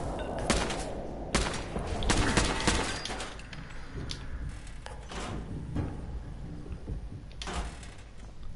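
Turret gunfire in Fallout 4 comes in bursts of sharp, rapid shots, dense at first and then more scattered, mid-level and with no talking.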